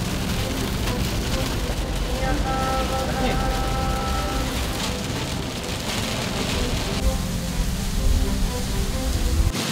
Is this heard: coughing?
no